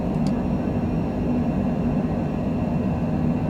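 A small aircraft climbing out just after takeoff from Sheridan, Wyoming with its gear retracting, a steady loud engine and airflow drone heard from inside the cabin, with a brief faint click near the start and no talk.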